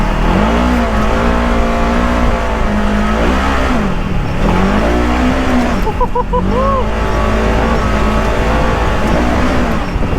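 A pickup truck revs hard while drifting, its engine note rising and falling in a continuous loud drone, with excited voices shouting over it.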